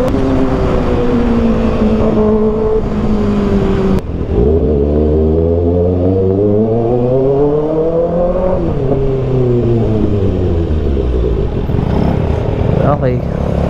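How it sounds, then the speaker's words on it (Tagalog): A 2024 Kawasaki ZX6R motorcycle engine revs loud and close, its pitch climbing and falling in long sweeps with a high screaming tone, steady throughout with no talk. "Mas maingay pa nga halos yata tong ZX6R kasi siya naman malaki ang tunog."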